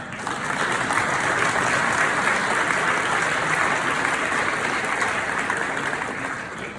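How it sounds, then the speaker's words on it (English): A crowd applauds steadily and loudly for about seven seconds at a high school senior honors program, dense clapping that holds even throughout before tapering slightly at the end. "please give a round of applause to the First Lady Nut over there"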